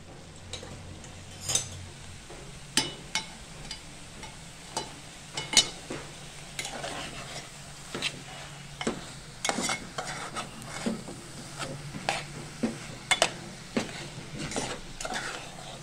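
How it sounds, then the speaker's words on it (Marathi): Chana dal puran filling being sautéed in a pan over medium heat for puran poli: soft sizzle beneath repeated spoon clacks and scrapes against the pan, a sharp tap every second or so, no voices. "हे असं आता परतून घेते मी पुरण।"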